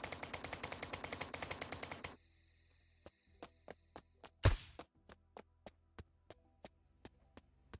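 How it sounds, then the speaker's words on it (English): Silenced gunshots in a video game: a fast burst of suppressed shots, then a lower hum with a string of evenly spaced single muffled shots and one louder thud, no talking. "That's what a silent shot would sound like."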